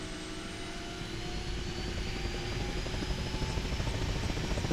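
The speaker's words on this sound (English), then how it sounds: "it's my engine turning on" A helicopter engine spins up steadily, its rotor and turbine drone building gradually and rising slightly in pitch, a continuous mechanical hum that grows a little louder across the stretch with no voices over it.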